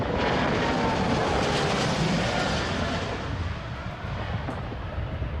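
Airliner roaring down the runway at Heathrow in the Prepar3D v4.5 flight simulator, a loud, steady broadband jet rush that holds strong throughout and eases only slightly toward the end, with no talk over it.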